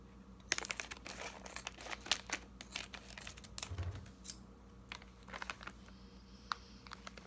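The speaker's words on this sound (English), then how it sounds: "I'm gonna have to cut it with my trusty scissors." Sharp snips of scissors cut through crinkly plastic packaging, a series of close, irregular clicks and rustles in a quiet room.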